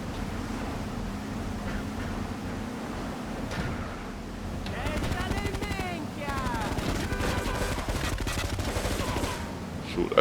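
Automatic gunfire from GTA Definitive Edition rattles in dense, sustained bursts through the middle and end, with a shouting voice over the shooting.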